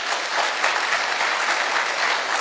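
Sustained applause from a crowd, dense and steady clapping throughout at a fairly loud level.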